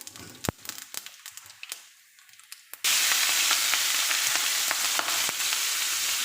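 Two bay leaves drop into hot oil, setting off a sudden loud, steady sizzle that replaces the earlier soft clicks and taps, holding bright and continuous at close range.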